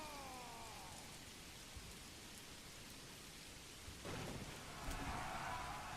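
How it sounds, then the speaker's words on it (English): Steady rain falls in the medieval strategy game Manor Lords, a dense even hiss throughout, with a low rumble building and the wash growing louder over the last two seconds, no voices. "And it's raining?"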